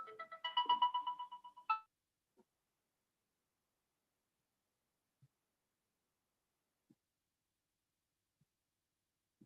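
A phone ringtone sounds for an incoming call, ringing loudly for under two seconds in an indoor online training session, then stopping, followed by near silence with a few faint clicks.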